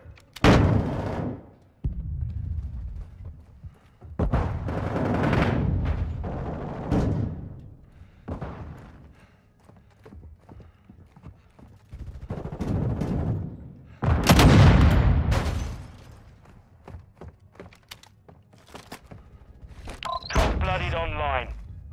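Decoy grenade in Call of Duty Modern Warfare 2 multiplayer gives off repeated bursts of fake gunfire and thumping shots in separate clusters, mixed with loud in-game combat sounds, while a player talks in between.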